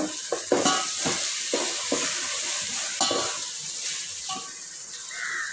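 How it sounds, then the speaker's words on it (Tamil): Chicken frying in a pan for biryani hisses with a steady, close sizzle while repeated spoon strokes scrape and stir through it. "சிக்கன் அப்படியே கழுவிட்டு சேர்த்துக்கலாம் சேர்த்து நல்லா கிண்டி விட்டுக்கோங்க"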